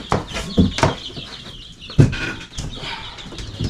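Chickens and baby birds in a coop give repeated clucks and chirps at close range, with intermittent sharper calls over a busy background and no talking.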